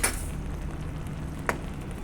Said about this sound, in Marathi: हे धाना पावडर घातल्यानंतर भाजी चांगली परतून घ्यायची आहे